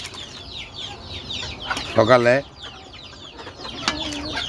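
Desi chickens fed hot vegetable khichuri on an Eid morning cluck steadily nearby, with a louder squawking burst in the middle and a person speaking briefly over them.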